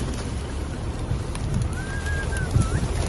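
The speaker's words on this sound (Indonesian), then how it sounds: "ini banyak sekali burung dara ini" Pigeons in Mecca on a morning feeding, a soft coo or two rising briefly over steady outdoor background noise with low rumble, no talk.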